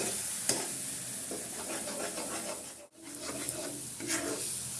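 A ground paste is stirred and scraped in hot oil in a pan, a continuous soft sizzle with rhythmic rubbing strokes of the spoon and a brief pause partway through.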